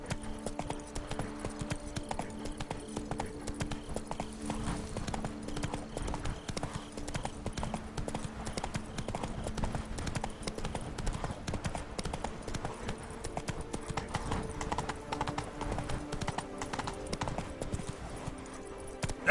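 Hooves clip-clop in a rapid, continuous rhythm as a horse gallops in The Witcher 3, a steady close patter running the whole length with no one speaking.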